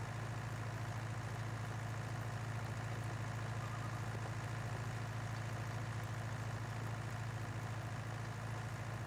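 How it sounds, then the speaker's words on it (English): An old four-wheel-drive Fiat tractor idles in rainy Farming Simulator 22, a steady, quiet, low diesel drone that stays even and unbroken throughout. "I'm driving a borrowed tractor. It's a different farmer's tractor, but I'm driving an old Fiat"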